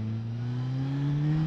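A Suzuki GSX-S 1000 naked motorcycle engine revs in a brief, smooth rising drone, its pitch climbing steadily over a second and a half, heard close and alone.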